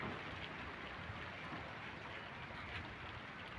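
Light rain just beginning to fall outdoors, a steady soft hiss of scattered drops spread evenly through the moment with no voices.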